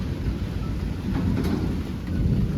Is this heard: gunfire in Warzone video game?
no